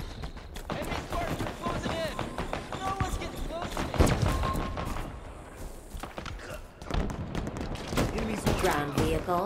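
Dense, continuous gunfire from Halo Infinite: rapid bursts and scattered shots layered with engine noise and game effects, with voices talking throughout.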